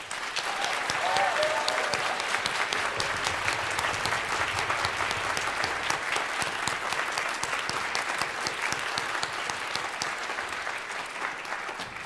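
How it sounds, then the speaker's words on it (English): An audience at a conservatory hooding ceremony claps continuously for the graduates, a dense, steady wash of applause with no break across the whole stretch. "giving one more round of applause to all of our graduates today"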